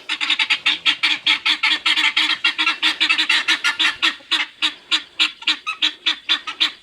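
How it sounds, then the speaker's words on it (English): A flock of guinea fowl gives loud, rapid, repeated raspy calls in a steady chattering rhythm close by, with no voices. "it sounds like the guineas are disagreeing with me"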